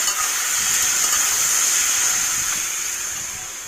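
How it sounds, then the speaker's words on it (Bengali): Water poured into a simmering fish curry in a hot pan, giving a loud, steady hiss of steam and sizzle that fades slightly toward the end, close up with no speech. "মাছের ঝোলটা আমি এবারে জল ঢেলে দেবো"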